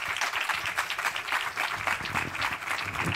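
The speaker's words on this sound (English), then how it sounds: "I want to give another round of applause to our first amazing group" An audience at an MFA interaction design thesis festival gives a round of applause, a dense, continuous wash of many hands clapping at once, fairly loud and steady throughout.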